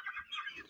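A hen clucks after laying an egg in a farmyard coop, a brief burst of two or three soft, close clucks with nothing else around it.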